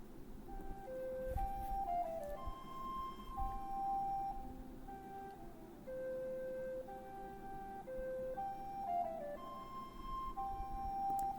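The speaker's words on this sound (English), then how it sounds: "And so now it should magically sound like a recorder." A recorder soundfont played back in MuseScore renders a simple melody of pure, flute-like tones, stepping between a few pitches with short slides, fairly quiet over a faint background hiss.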